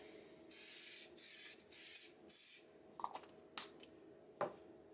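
Glue activator sprayed in four short hissing bursts during woodworking on a French cleat shelf, followed by a few soft clicks and taps nearby.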